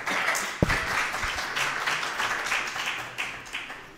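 Audience applause at a Spanish panel discussion on justice, steady dense clapping with one sharp louder clap near the start, fading slightly toward the end.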